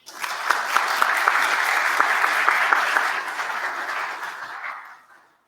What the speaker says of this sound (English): Another round of applause for the Executive Director, the International Trade Center, Ms. Pamela